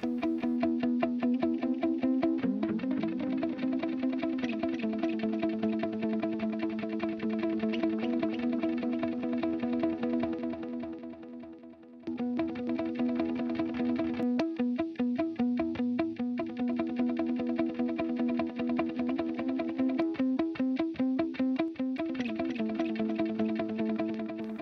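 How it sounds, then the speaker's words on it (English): Sustained distorted electric guitar playing a steady riff, with dotted-eighth delay repeats from Waves H-Delay filling the gaps between notes so it sounds doubled in speed, loud and continuous. "when I activate the delay, it sounds like I'm playing basically twice as fast"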